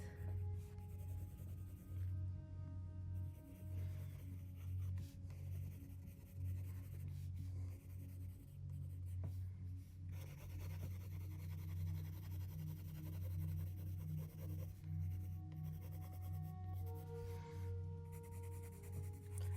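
A pencil scratches and rubs steadily across paper while an elephant is sketched, faint continuous strokes under a low background hum, with no voices.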